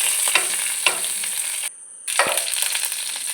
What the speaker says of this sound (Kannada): ಒಗ್ಗರಣೆಗೆ ಕೊಕೊನಟ್ ಆಯಿಲ್, ಕರಿಬೇವು ಸ್ವಲ್ಪ ಹಾಕಿ, ಜೀರಿಗೆ, ಸಾಸಿವೆ, 3 ಎಸಳು ಬೆಳ್ಳುಳ್ಳಿ.